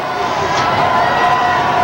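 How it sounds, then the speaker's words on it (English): A huge crowd packed into Times Square for the 1999/2000 millennium celebration roars with cheers and shouts, a dense, continuous wash of voices. "There's a tremendous crowd"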